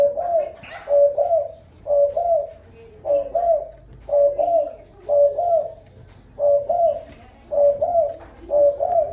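Pigeons coo in a steady repeating rhythm, about a dozen soft rolling calls spaced evenly, close and clear with no talking.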